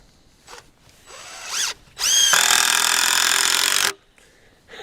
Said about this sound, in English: This is not a drill, by the way. This is an impact driver.